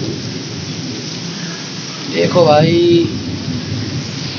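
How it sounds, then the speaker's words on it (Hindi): Heavy rain pours steadily in a dense hiss during a storm, with thunder rumbling up in the background; someone speaks briefly in the middle. "भाई क्या ही तो बारिश है भाई,"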